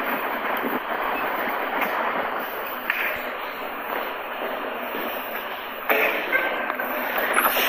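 A train rolling along with a steady, broad rumble and rattling, holding constant throughout with a slight surge near the end.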